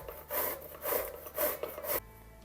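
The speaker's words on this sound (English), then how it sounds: "And now it's time to grate our zucchini." Zucchini rasps against a kitchen grater in four even, rhythmic strokes, each a close, bright scraping swish, before the sound stops into quiet.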